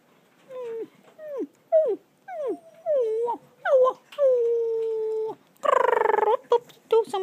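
Chihuahua puppies whine and yelp in a rapid run of short, high, bending cries at close range, building to a longer, louder whimper and a harsher burst near the end.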